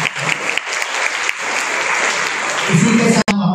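Enthusiastic audience applause at an Urdu students' programme as a guest is invited up, with sustained dense clapping throughout and a voice entering near the end.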